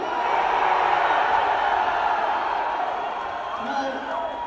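A large crowd at a concert roars and cheers loudly and continuously, a dense sustained wall of shouting that eases slightly toward the end.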